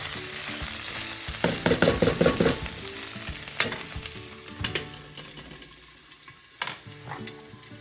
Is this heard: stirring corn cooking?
yes